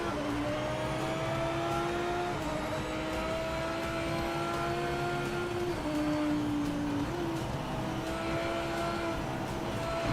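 A Porsche race car engine drones loudly in the video game Project Motor Racing, holding a steady high-pitched tone with several quick gear-shift drops as it climbs again, with no talking.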